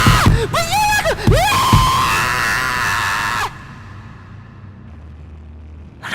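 Screaming in a horror story: a loud, shrill scream with wavering pitch and several sharp yells, then a sustained cry that cuts off abruptly into a quiet low background.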